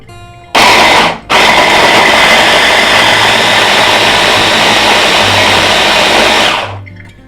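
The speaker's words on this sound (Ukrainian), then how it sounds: "Тепер все подрібнюємо в блендері." A blender whirs loudly and steadily for about six seconds after a brief start-stop pulse, chopping vegetables for kimchi, then winds down to quiet.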